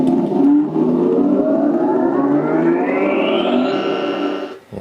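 Loud synthesized sweep from the 3D Pinball game on Windows 2000, a buzzy, distorted siren-like tone rising steadily in pitch over a few seconds before cutting off, no talking.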